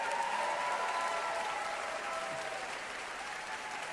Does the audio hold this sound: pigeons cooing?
no